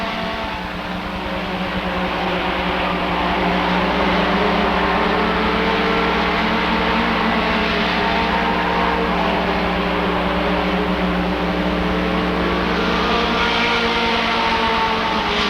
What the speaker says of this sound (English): Bowers now on the inside of Melvin. Melvin on the high side, down the backstretch